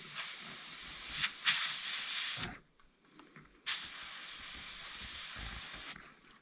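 Spray paint hisses in two long, close, steady bursts as it dusts lightly over a skull stencil, with a quiet pause between the bursts and another brief stop at the end.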